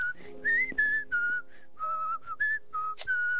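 A whistling mine in the Kamikaze Veggies game gives a run of clear, close, wavering whistle tones in short bursts, with a brief click near the end and no speech.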